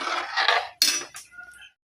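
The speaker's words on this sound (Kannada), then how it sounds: "ಈಗ ಕುಕ್ಕರ್ ಮುಚ್ತಾ ಇದ್ದೀನಿ" A metal pressure cooker lid being closed over a pot of dum vangibath, heard as a few close, sharp metallic clanks and clatters in quick succession, then silence.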